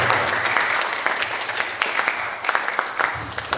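An audience at a talk session on performance ideas breaks into steady applause, a dense patter of many hands clapping with a few sharper individual claps standing out.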